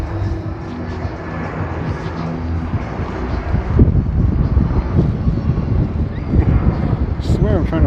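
An American airliner passes overhead during an evening walk in Wynwood, Miami, a broad, steady roar that swells midway and stays loud throughout, mixed with wind noise and people talking.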